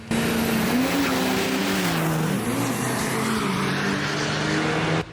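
A big turbocharged truck on racing slicks makes a drag strip run on a cold weekend, its loud engine roaring steadily and near for about five seconds, the pitch swelling and dipping as it shifts, with no talk.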